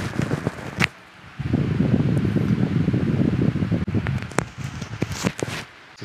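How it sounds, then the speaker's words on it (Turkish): An electric fan blows wind straight into a Godox Movelink wireless microphone, making a loud, low, rumbling buffet that holds steady for a few seconds and then breaks up into gusty bursts and knocks. "Anca ben vantilatörümü bulabildim rüzgar yapabilecek"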